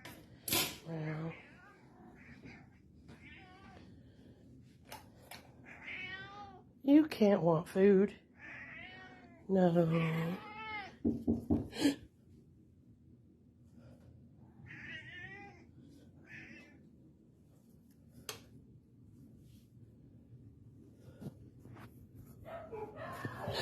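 A house cat meows several times at night, with drawn-out, wavering cries in a quiet room, close and fairly clear, while a person talks quietly in between.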